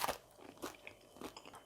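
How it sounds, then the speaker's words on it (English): Crunchy crust of freshly baked gluten free bread being bitten into and chewed, a few sharp crisp crunches close to the ear, quiet and brief with no talking. "it's crunchy on the outside, crispy, and really nice and moist on the inside"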